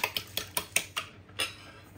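A utensil scrapes and taps against a bowl while sugar pie ingredients, including a packet of vanilla, are mixed, giving about seven quick, even strokes close up that fade at the end, with no speech.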